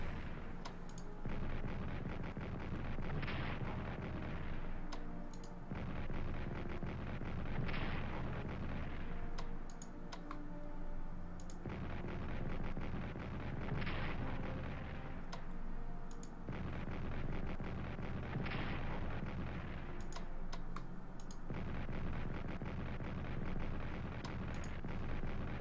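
Continuous loud artillery barrages in a World War I strategy game, with repeated booming blasts and rumbling gunfire layered densely throughout, surging in waves every few seconds with no talking.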